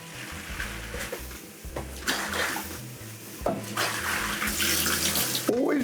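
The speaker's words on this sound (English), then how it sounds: "turn the cold off, keep the hot water running" A master bathroom bathtub faucet runs hot water in a steady, fairly close gush that surges and shifts in bursts, with faint clatter, over about six seconds.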